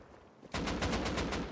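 AK rifle fire in the video game Rust: after a brief quiet lead-in, a loud, rapid automatic burst of evenly spaced shots runs for about a second.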